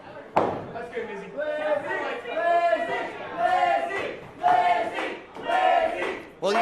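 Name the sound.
wrestling audience cheering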